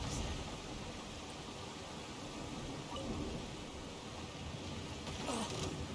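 Heavy rain pours down in Genshin Impact, a steady, even hiss of downpour with a faint low rumble, heard alone at a soft level.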